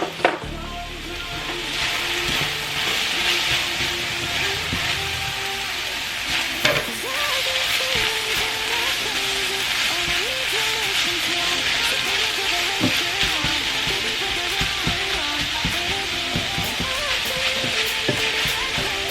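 Tomatoes, garlic and onion fry with ground beef in a pot for sopa de fideo, a loud, steady sizzle with occasional stirring scrapes and a clack, close and continuous.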